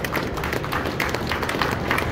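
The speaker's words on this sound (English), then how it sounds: "Yes, round of applause." An audience claps for the unveiling of a 1970 Plymouth Roadrunner 440 Six Barrel convertible at a car show, a short, dense round of applause with scattered cheers in a crowded hall.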